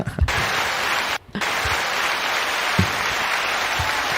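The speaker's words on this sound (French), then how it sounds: "Applaudissements." Studio audience applause at a French quiz show, loud dense clapping that cuts out abruptly for a moment and then resumes just as strongly.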